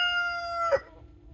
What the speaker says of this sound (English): My chickens are right here